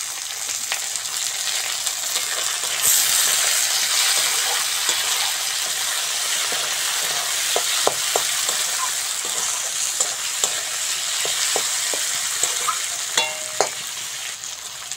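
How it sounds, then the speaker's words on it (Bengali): Chopped tomato hits onions already fried in a pan for a Bengali aloo dum, giving a steady close sizzle that runs throughout, with scattered clicks and scrapes of stirring and no voices. "পেঁয়াজটা ভালো করে ভেজে নিয়েছি, এবার টমেটোটা দিয়ে দেবো।"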